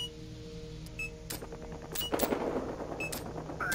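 Automatic machine gun fire from the video game Battlefield Hardline crackles in rapid bursts, densest toward the middle, over a steady bed of game ambience and effects.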